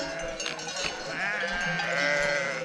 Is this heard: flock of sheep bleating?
yes